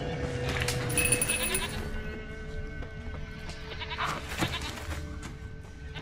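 A goat in The Witcher 3 bleats repeatedly at a middle distance, short wavering cries spread across a quiet ambient game soundscape.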